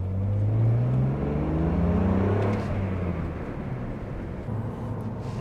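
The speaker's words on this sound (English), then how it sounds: "six-cylinder sound." A six-cylinder car engine hums through a polished exhaust, a smooth, crisp drone that swells briefly and then settles to a steady, even note, fairly close with no talking.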